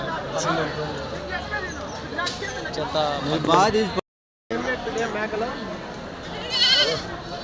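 Several goats bleat repeatedly at a weekly Tuesday sheep and goat market in Kadiri, wavering cries overlapping with people talking nearby, interrupted by a brief moment of silence midway.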